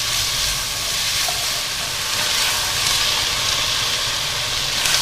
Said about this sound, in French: Donc je vais les faire revenir pendant 3-4 minutes.